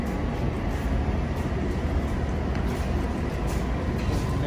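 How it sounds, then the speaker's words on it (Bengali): A subway train passes along a station platform in Canada, giving a steady, broad rumbling roar with continuous rail noise that stays loud and even throughout, without speech. "এই যে এখানে দেখতে পাচ্ছেন একটা ট্রেন যাচ্ছে"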